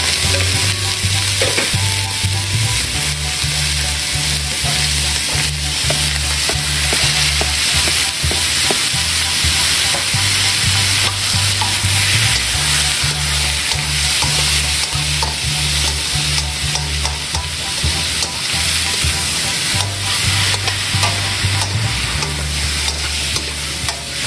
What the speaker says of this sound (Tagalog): Prito natin to sa sarili niyang mantika